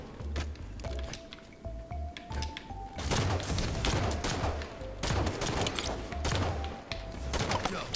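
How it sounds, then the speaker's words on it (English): Pistol shots fired rapidly over and over in the Halo 5 Infection multiplayer mode, loud sharp cracks in quick irregular bursts against steady in-game background noise. "People are going to be roasting me for how many pistol shots I'm wasting right now."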